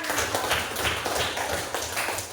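Students in a classroom give a round of applause, a soft, steady, overlapping clatter of many hands clapping at close range, without any clear voices above it.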